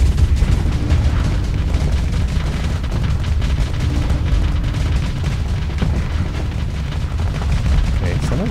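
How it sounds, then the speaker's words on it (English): Heavy weapons fire and impacts during a Starsector space battle, a continuous dense barrage of booms and rattling shots that stays loud and unbroken throughout. "someone's shooting at me from the back"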